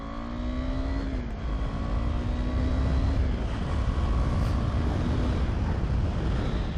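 KTM 390 Adventure motorcycle accelerating hard on a road: a loud, continuous engine drone whose pitch climbs through the gears over heavy wind rush, heard from the rider's position, with no talking.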